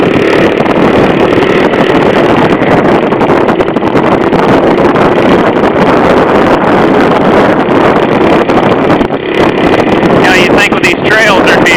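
A Honda CT70 minibike climbs a trail hill with a steady, loud engine drone under heavy wind buffeting on the microphone.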